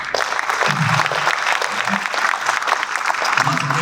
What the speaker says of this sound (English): So big round of applause for all of you.